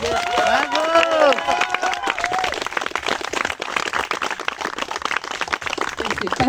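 Wedding guests at a secular ceremony clapping loudly and steadily, a dense crowd of applause with cheering and voices mixed in throughout.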